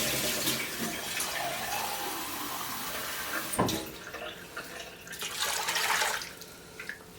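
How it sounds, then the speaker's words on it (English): Hot water pours and splashes into a Russell Hobbs multi cooker, a soft continuous hiss of running water with a small knock midway, fairly quiet and without talking. "Now I'm going to grab some hot water."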